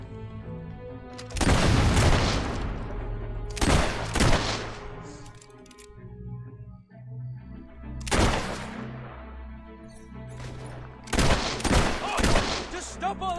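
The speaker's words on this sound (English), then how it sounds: "Oh, just stop all that shooting nonsense!" Gunfire in the video game Fable 3 comes as several loud, booming volleys spaced a few seconds apart, each a dense crackling burst of overlapping shots that trails off into quieter game ambience between rounds.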